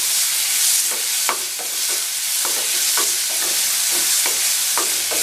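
Okra (ladies finger) stir-fries in a pan over a medium flame for vendakkai poriyal, with a constant loud sizzle broken by repeated scraping stirs of a spatula.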